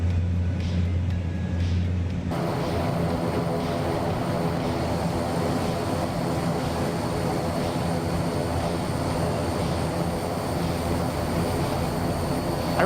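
Twin turboprop engines of a Fokker F27 droning steadily on approach in Microsoft Flight Simulator 2024, a loud continuous hum with layered propeller tones that holds evenly throughout, no talking.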